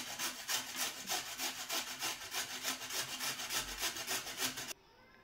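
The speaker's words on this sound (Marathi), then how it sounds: "आपण इथे गाजर किसून घेणार आहोत." Carrots are grated by hand on a grater in a home kitchen, giving a close, steady rhythm of rasping strokes, about three per second, that ends abruptly near the finish.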